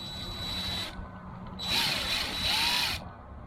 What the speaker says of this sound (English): So what you do is you do a little countersink,